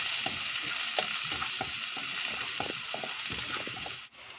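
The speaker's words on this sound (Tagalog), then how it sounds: "Then we saute the garlic first until light brown or medium brown" Garlic sautés in butter in a pan with a steady, close sizzle. Irregular clicks and taps from stirring sound over it.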